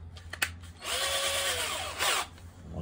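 A power drill bores a hole near the edge of a Buzz Lightyear toy, starting with a few short clicks and trigger bursts before a close, whining spin of about a second and a half with a brief surge near the end.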